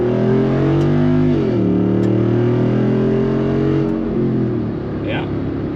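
A 2021 Jeep Wrangler Rubicon 392 V8 engine revs loudly and close, its deep tone rising and falling through a couple of throttle blips under steady rumble.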